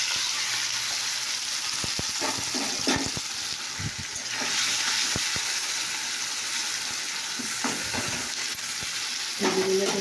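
Boiled food frying in a pan, a continuous hissing sizzle with scattered scraping and stirring clicks, fairly close.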